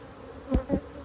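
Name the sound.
honeybees buzzing during a hive inspection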